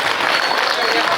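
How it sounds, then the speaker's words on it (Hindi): An audience at an outdoor Hindi poetry gathering held for Chaitra Navratri at a temple claps loudly, a dense, steady burst of applause lasting about a second. "बचाओ जोरदार ताली"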